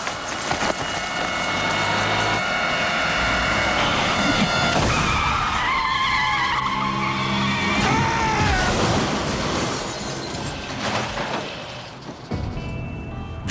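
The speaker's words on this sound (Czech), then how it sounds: "Křižovatkou projelo bez zastavení modré auto." A blue car runs through an intersection without stopping, its tires skidding and squealing loudly in a sustained, wavering screech over engine roar, with no voices present.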